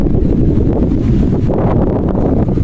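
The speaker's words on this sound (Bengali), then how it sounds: "অনেক বাতাস" Strong, cold wind blows steadily across the microphone while climbing at a historic site in Greece, a loud, continuous low buffeting rumble with no voices.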